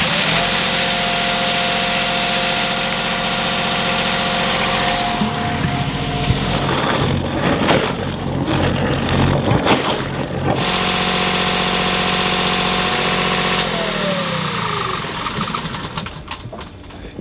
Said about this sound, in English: we're going to run both the engine and the generator independently